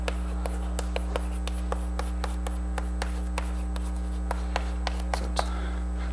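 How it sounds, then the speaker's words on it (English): Chalk or marker taps and scratches out writing on a lecture-hall board, a run of short, fairly regular strokes and clicks over a steady room hum, close but soft, with no voices. "maybe I write for once the names"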